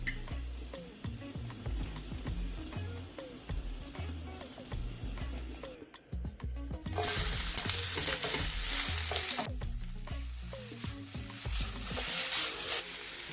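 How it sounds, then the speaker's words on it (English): Onions frying in olive oil in a large pan, a steady crackling sizzle with soft scraping stirs, swelling into a louder hiss midway before settling back. "In a large pan, add olive oil and add your onions."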